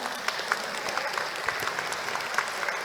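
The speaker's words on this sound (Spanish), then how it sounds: "Le brindamos un aplauso." Applause at a national water congress ceremony in Peru, a dense, steady round of clapping from the audience, moderately loud and continuous for about three seconds with a few sharper individual claps standing out.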